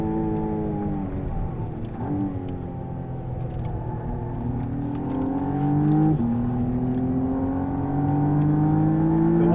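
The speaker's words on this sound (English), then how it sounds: "The way it picks up from medium revs, we know, is very good, but it revs as well, produces lots of power." McLaren Artura plug-in hybrid supercar engine pulling hard from inside the car: a loud, continuous engine note that climbs in pitch through the gears, with a few brief dips at gear changes, and no talk.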